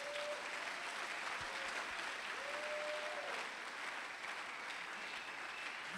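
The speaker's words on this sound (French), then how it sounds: "Est-ce que tu peux acclamer pour le Seigneur?" A church congregation claps steadily for the Lord, a dense, continuous wash of applause heard from within the hall at a moderate distance.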